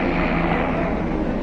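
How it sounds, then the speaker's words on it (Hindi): Loud, continuous close-range roar of a helicopter passing low overhead near the Kedarnath temple, a dense steady engine and rotor rumble filling the whole moment. "ये देखो हेलीकॉप्टर"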